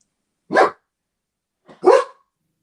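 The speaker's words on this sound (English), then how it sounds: "You hear my dog in the background" A dog gives two sharp, separate barks about a second and a half apart, clear and fairly close against a silent background.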